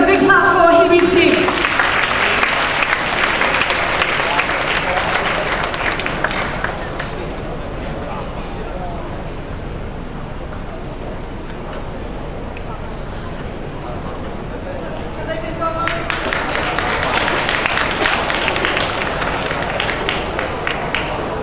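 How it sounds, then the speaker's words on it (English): Clapping rises for a prize-winning team at a school cooking competition, louder at the start and again near the end, with a stretch of quieter room noise and voices between. "Everybody, big clap for Hebe's team."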